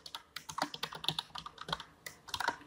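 Quick, close clatter of computer keyboard keys as Python plotting code is typed, a crisp run of irregular keystrokes with short pauses, alone without speech.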